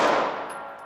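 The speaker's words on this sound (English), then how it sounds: "Shooting 3 rounds in 5 seconds" A single loud pistol shot cracks close by on a shooting range during a timed qualification course, its bright report decaying into a short ringing tail.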